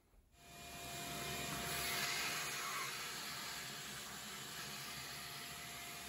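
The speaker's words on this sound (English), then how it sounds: "I'm gonna go ahead and get the vacuum cleaner and get that out." A vacuum cleaner runs steadily, pulling sawdust out of a CNC router during maintenance on a Carve machine; the broadband whoosh starts abruptly and holds loud and constant throughout.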